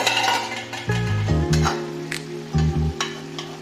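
Small kechki fish with coriander leaves simmer in a pan as a spatula stirs them, giving a low sizzle with a few close metallic clinks and scrapes against the pan, with no talking.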